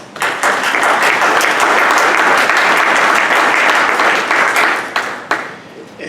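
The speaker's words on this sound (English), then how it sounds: "I want all of you to applaud yourselves" Audience at a Frederick County Republican congressional district debate breaks into sustained applause, dense and steady clapping that swells quickly, holds for several seconds, then thins out with a few scattered claps at the end.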